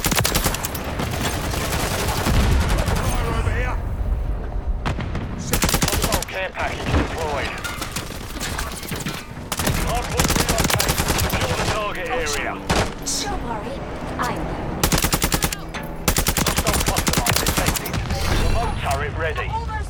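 Bursts of automatic gunfire and single shots crack out repeatedly during Modern Warfare 3 gameplay, loud and dense in uneven volleys with short gaps between them, while voices call out over the action.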